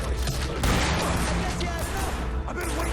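Gunfire in the video game The Darkness II, a dense burst of rapid shots and booming impacts filling the whole moment, loud and continuous with a game soundtrack mixed in.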